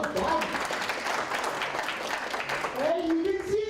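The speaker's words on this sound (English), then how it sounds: "A round of applause to you guys." Audience at a faculty breakfast event clapping in a round of applause, a continuous patter of hands with a voice speaking over it toward the end.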